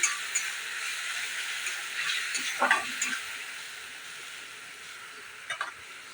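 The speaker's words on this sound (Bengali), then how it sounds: "পেঁয়াজটাকে পেস্ট করে রেখে দিয়েছি এটাই এর ভিতরে এখন দিয়ে দেবো ভালো করে মিশিয়ে দেব" Onion paste gets stirred into a mashed pointed gourd bharta, with a faint background hiss and a few soft scraping stirs at intervals, quiet and close.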